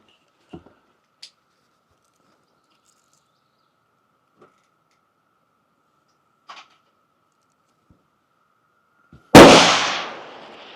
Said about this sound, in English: I'm shooting over the grass.